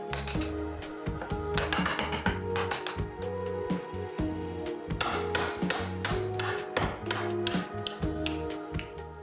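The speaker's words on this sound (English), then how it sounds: "A chisel and a hammer worked really well to remove the bark." Hammer blows drive a chisel to strip bark from a piece of wood for a plant stand, a steady run of sharp, close metallic taps and knocks in uneven rhythm, some landing in quick pairs, with no talking.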